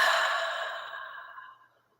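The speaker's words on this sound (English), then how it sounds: "And with an open mouth, exhale." A single long, breathy exhale through an open mouth, close and clear, fading out gradually over about a second and a half into silence.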